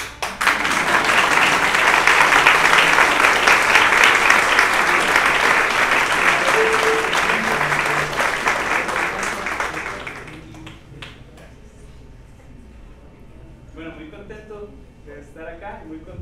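An audience applauds at a classical guitar concert in an arts school hall, a loud, sustained round of clapping that fades after about ten seconds into quiet room noise with faint sounds.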